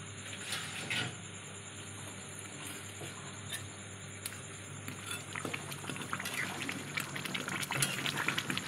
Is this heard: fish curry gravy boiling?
yes